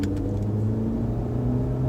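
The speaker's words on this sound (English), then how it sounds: "But for some reason, accelerating uphill, this car doesn't know what to do" A Range Rover Evoque engine drones steadily while accelerating uphill, a close, even, low hum with no clear shift or rise.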